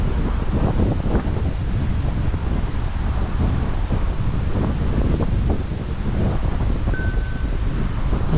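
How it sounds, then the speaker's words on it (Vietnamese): Strong gusting wind buffets an outdoor microphone in a park among cherry blossoms in Dundas, Ontario, a continuous loud low rumble and roar with no voices. "Quý vị nghe cái tiếng gió không? Rất là lớn"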